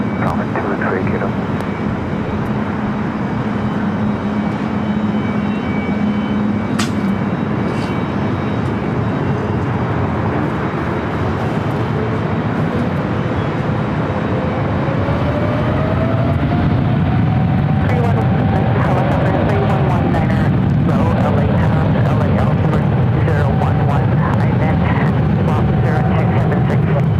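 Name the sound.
heavy airliner taking off from runway 24 left at LAX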